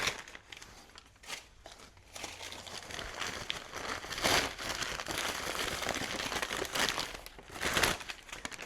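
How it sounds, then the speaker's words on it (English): Standard packing paper is crumpled and crinkled by hand while a live plant in a pot is wrapped for shipping, a steady close rustle that swells louder in bursts, with no talk. "This is just standard, packing paper."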